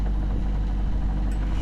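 A sailboat's engine runs steadily under way at about 3 knots, a loud continuous low rumble with no change through the short stretch.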